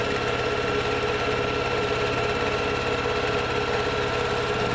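A sewing machine runs continuously while quilting lines on a tote handbag, producing a fast, even mechanical whir and rapid stitching vibration at a close, constant level with no pauses or voices.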